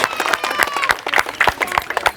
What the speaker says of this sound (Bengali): আমাদের এই 2 জন প্রতিযোগীর জন্য জোরে করে করতালি।